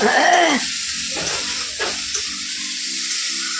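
Food fries in a pan while being stirred, a close, steady sizzle with a brief louder burst at the start and a few scraping strokes.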